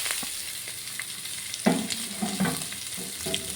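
Chopped onion, cabbage, ginger, green chilli and carrot sizzle and fry in a pan with coconut and curry leaves, with scattered scraping stir clanks over a steady hiss.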